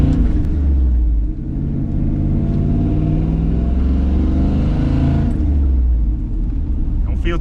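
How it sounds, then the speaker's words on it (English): An LS-swapped S10 pickup truck on its first drive, its loud V8 rumbling deep and steady as it pulls and revs, close up and cabin-heavy, with a voice speaking over it. "Well, first drive, guys. Let's see how she goes, if I can hold her together."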